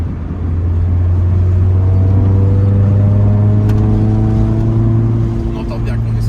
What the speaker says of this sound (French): On entend bien qu'on est sur un Atmo quand même